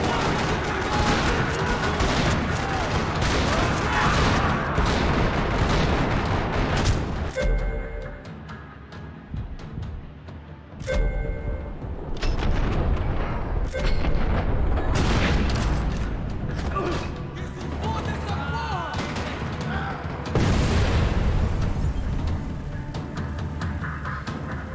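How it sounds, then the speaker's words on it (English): Sustained gunfire and booms fill a parking lot in the video game Max Payne 3, with dense rattling bursts and heavy impacts that briefly drop away and then resume loudly. "Another parking lot rattling with gunfire."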